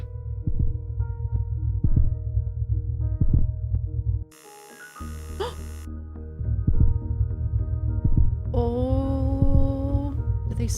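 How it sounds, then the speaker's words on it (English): Human heartbeat in a Minecraft game world, a steady low rhythmic thumping under a droning hum, briefly cut out, then resuming with a rising whining tone near the end. "we can hear the sound of a human heart start to beat"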